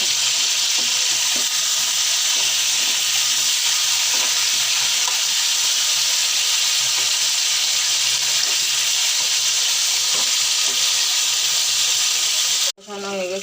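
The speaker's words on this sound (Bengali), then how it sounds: "মাংসের পাশে আলুগুলো দিয়ে দিলাম" Chicken and potatoes frying together in a pan, a loud, steady sizzle with a constant hiss and occasional stirring clatter that ends in a sharp knock.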